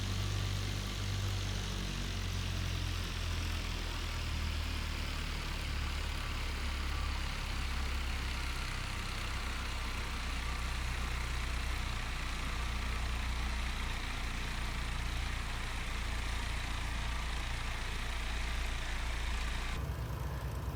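Small plane's engine running in a video game while parked: a continuous droning hum with a low rumble, steady and unchanging throughout with no voices.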